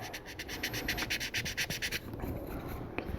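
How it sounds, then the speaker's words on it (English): A plastic model kit being sanded by hand to remove striations on the parts: quick rhythmic back-and-forth rasping strokes, close and clear, roughly a dozen pulses that give way to softer, irregular scratching near the end. "I spend so much time sanding."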